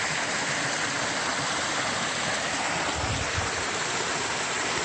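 Rushing water pours over the top of a waterfall on Grove Creek, a steady, loud broadband roar heard up close with no pauses and no voices.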